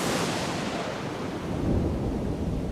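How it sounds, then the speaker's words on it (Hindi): A violent night-time thunderstorm at sea in a movie scene: a loud, continuous roar of wind, rain and rumbling thunder that swells slightly near the end before cutting off. "रात में समुंदर पर एक जबरदस्त तूफान आ जाता है।"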